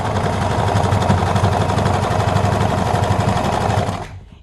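A sewing machine stitches a purple garment being fringed, a steady, fast mechanical whirr running loud and close for about four seconds before stopping abruptly.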